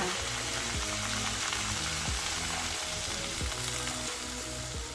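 Pork with herbs such as lemongrass, kaffir lime leaves and garlic sizzles loudly and steadily in a pan as plain water is added, with occasional stirring scrapes over a dense frying hiss and no talk.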